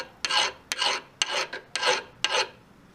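Hand file rasping across metal at a forge, five even strokes about half a second apart, close and dry with brief gaps between passes.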